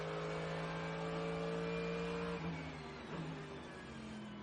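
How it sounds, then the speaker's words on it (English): A Mercedes AMG race car engine holds a steady high drone, then drops in pitch as it shifts from fourth to fifth gear climbing a hill, and climbs again, loud and close, during an IMSA race at Monterey. "unmistakable sound of the Mercedes AMG engine climbing the hill from 4 to 5"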